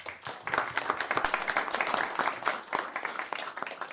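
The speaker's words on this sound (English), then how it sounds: "So just do a quick round of applause for everyone who's here today." At a county board meeting, an audience applauds retiring county employees with dense, steady clapping from a roomful of people that lasts throughout.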